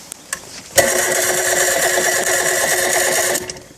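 A Chrysler 75 hp outboard motor cranks on its electric starter, a steady whirring, slightly labouring churn that starts abruptly after a couple of faint clicks and runs for nearly three seconds before stopping, close and loud.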